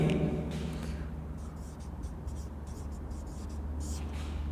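Chalk or marker scratching across a board during an algebra lecture on ring homomorphisms, a steady close scraping texture with soft room noise and no talk.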